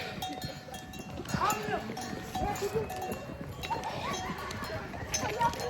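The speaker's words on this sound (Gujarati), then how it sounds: "આમ ખચ્છરો આવે છે પાછળ" Mules file past on a mountain path near Shimla, their bells clinking and hooves clopping in an uneven, continuous rhythm at moderate distance, with people talking over the top.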